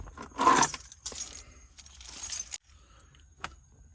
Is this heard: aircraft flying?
no